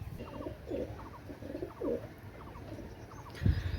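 Pakistani pigeons, including a Shiyalkuthi female, give repeated low soft coos in short rhythmic bursts at close range, with faint higher chirps above and a brief louder thump near the end.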